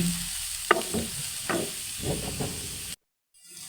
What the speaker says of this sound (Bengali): এটাকে নাড়াচাড়া করে আমি আবার এটাকে ঢেকে দেব 3-4 মিনিটের জন্য